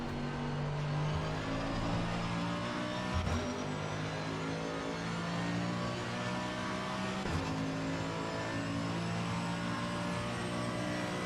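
Front-engined Mercedes race car in iRacing at Watkins Glen, its engine droning steadily and loudly throughout with a couple of brief gear-shift dips, heard alone without talk.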